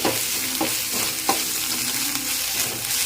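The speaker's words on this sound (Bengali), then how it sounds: "এখানে পেস্টটা দিয়ে দিলাম একটু ভালো করে নেড়ে চেড়ে মিশিয়ে নিচ্ছি আর কড়াইয়ের মধ্যে এটা একটু ভাজা ভাজাও হবে" Bottle gourd leaf paste frying in a wok while being stirred, a close, loud sizzle broken by several sharp spatula scrapes against the pan.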